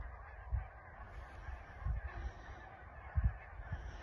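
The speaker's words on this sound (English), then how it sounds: "the birds are making a right racket over there" Geese honk noisily in the distance on the coast near Holy Island, a few louder calls rising out of a steady background hum of outdoor noise.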